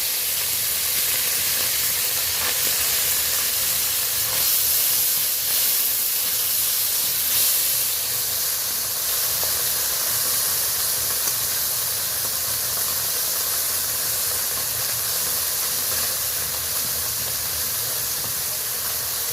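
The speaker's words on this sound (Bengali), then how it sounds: "হিট হয়ে গেছে, আমি এবার ছোট পার্শে মাছগুলো ভেজে নেব।" Small parshe fish fry in hot oil, a loud, dense, unbroken hiss and sizzle that holds steady for the whole stretch with no talking.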